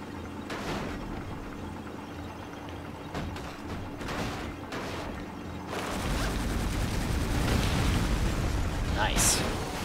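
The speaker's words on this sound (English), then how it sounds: "we can use the tank cannon. Aim for the helicopter, and it'll take out the bridge completely." Tank cannon blasts destroying a bridge in the 007 Agent Under Fire video game, several loud bursts and booms followed by a sustained roaring rumble of crashing debris, with a voice talking in places.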